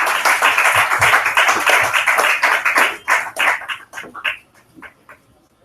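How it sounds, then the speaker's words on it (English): Audience applause after a round of applause is called for a co-founder of the DSC Prize for South Asian Literature at its 2016 longlist announcement; dense steady clapping, near and loud, thinning into scattered claps and fading out. "Please again, warm round of applause for Serena Narula."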